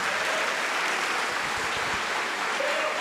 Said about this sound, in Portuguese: Vamos dar uma salva de palmas para o nosso Pai que está nos céus.